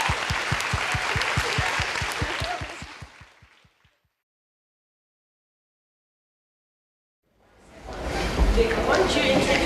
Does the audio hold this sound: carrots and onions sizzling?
no